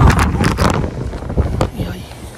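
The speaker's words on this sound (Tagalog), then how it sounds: "Mahangin pa." Outdoor wind buffets the microphone in Canada with a steady low rumble and gusty bursts that swell and ease across the whole stretch, loud and close.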